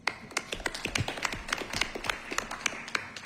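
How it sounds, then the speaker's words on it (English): Scattered applause at a sports authority board meeting, a modest group clapping with irregular, close, sharp claps that carry steadily for a few seconds. "I would like to applaud everyone who's ever served on this board"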